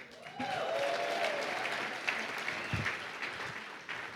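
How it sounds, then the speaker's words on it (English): Conference keynote audience clapping for a mayor, a moderate, continuous patter of applause at some distance, with a few louder bumps and some background noise. "Another round of applause for the mayor"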